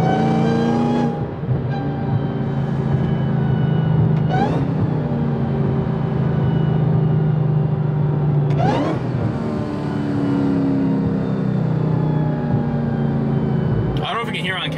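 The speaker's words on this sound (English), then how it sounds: "Inside the car with the windows all shut and the supercharger just screaming." Supercharged Chrysler 300 Redeye engine heard from inside the closed cabin, a loud whining scream that climbs in pitch through several hard pulls, with sharp shifts between gears and someone talking over it.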